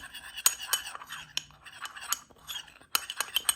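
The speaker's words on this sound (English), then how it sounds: "Get a little spoon and just kind of mix it up" A little spoon clinks and scrapes inside a small ramekin while pumpkin spice is stirred, giving quick irregular taps and scrapes at close range.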